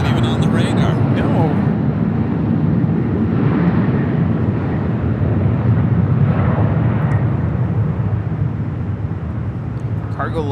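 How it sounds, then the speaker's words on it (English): A Cargolux cargo jet roars steadily down the runway at LAX on takeoff bound for Luxembourg, a loud continuous engine rumble lasting throughout, with people talking over it. "Cargo Lux taking off to Luxembourg."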